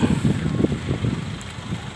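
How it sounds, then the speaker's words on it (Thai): Cool wind gusts outdoors beside a fish pond behind a temple in Hua Hin, heard as a continuous low rumbling buffet against the microphone, fairly loud and steady with no speech. "ลมเย็นดีครับพี่น้อง"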